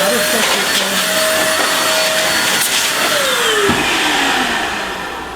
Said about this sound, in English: It's called the DataVac electric duster, and it's a 110 powered air can is what it is.